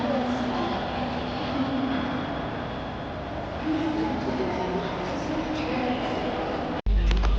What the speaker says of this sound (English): One of the trains of the China high-speed rail.